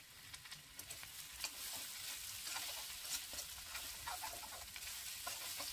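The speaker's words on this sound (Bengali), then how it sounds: "মশলা সহ সবজিটাকে ভালো করে কষিয়ে নেব" Snake gourd and potato stir-fry with spices in a pan, a soft steady sizzle broken by light scraping strokes of stirring, close but fairly quiet.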